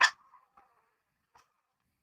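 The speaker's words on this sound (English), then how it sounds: "he barks and all kinds of stuff" One short, high-pitched yappy bark from a toy dog, followed by a couple of faint little yips in an otherwise quiet space.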